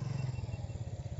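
A motorcycle engine labours up a rise near Shen Gram, Biral, in Dinajpur, giving a steady, close, low throbbing drone with quick regular pulses and no voices over it.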